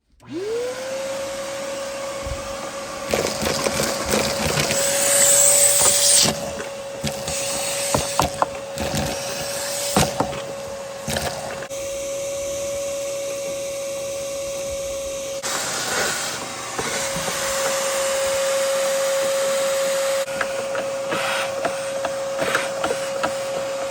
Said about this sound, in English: once we suck all that up with the shop vac